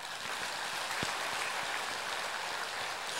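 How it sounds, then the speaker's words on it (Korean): A church congregation claps during a Korean Sunday sermon, a soft, even wash of many hands lasting a few seconds with no talking over it. "일단 박수부터 쳐주세요."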